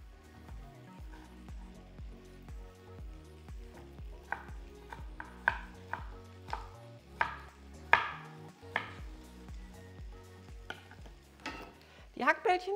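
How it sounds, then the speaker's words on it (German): A knife chops a deseeded yellow bell pepper into small cubes on a cutting board, giving a steady run of close, crisp taps, some louder than others, over a faint background. "Die Paprikaschote werden jetzt auch entkernen und in kleine Würfel schneiden."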